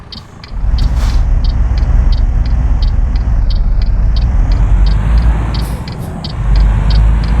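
Steady low engine rumble fills the cab of a Scania Streamline 440 truck with a 12-speed gearbox as it drives, with a regular ticking indicator clicking over it throughout.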